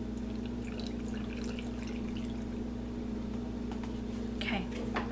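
Dill brine pours into a tall pickle jar, a quiet steady stream over a constant low hum, ending with a brief brighter splash near the end.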